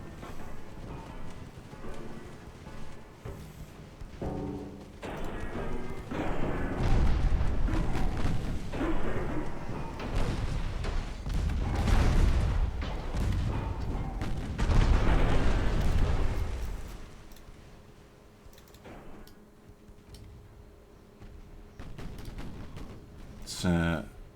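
Gunfire and heavy booms from a British classic campaign battle in a strategy video game, loud dense barrage building over the middle of the scene then easing off, with distant shots continuing under a quieter stretch.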